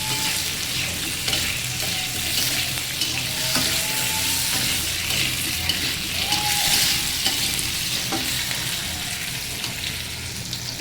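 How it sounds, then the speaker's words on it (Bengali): Malabar spinach (pui shak) with salt and a little turmeric fries in a pan, a steady close sizzle with occasional faint stirring scrapes and pops throughout. "এটাকে এখন একটু ভেজে নেব"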